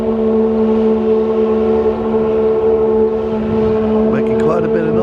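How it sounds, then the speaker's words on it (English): A fishing boat motoring along the Chattahoochee River in uptown Columbus, Georgia, giving a steady loud droning engine tone that holds throughout, heard from a bridge with brief voices near the end. "Fishing boat."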